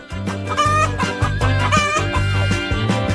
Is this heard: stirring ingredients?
no